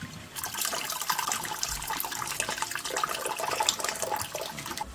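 Beer wort for a dark ale draining out of a grain bag in a brew-in-a-bag setup, a steady close splashing pour of liquid running continuously without talk.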